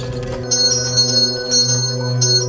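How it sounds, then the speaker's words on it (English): A bright metallic reception desk call bell rings repeatedly, three clear strikes with shimmering ring-out between them, close and fairly loud. "he heard the honeymoon suite call bell near the reception desk suddenly ringing on its own"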